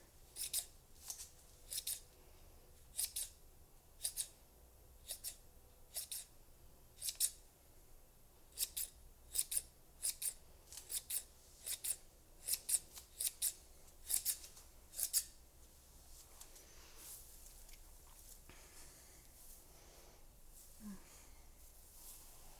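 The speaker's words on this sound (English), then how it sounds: "we're just gonna kind of complete this out with a few little snips here and there" Scissors make close, crisp snips during a soft-spoken ASMR salon haircut. They come in quick pairs and clusters for about fifteen seconds, then stop and leave a quiet background.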